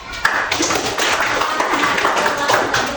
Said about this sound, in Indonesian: Ya, tepuk tangan dulu sebelumnya